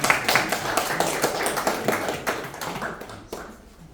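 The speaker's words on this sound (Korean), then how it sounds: "다시 한번 박수 부탁드리겠습니다" An audience at a disbanding ceremony for an election-watch volunteer group claps in a brief round of applause, many hands patting quickly at first, then thinning and fading over about four seconds.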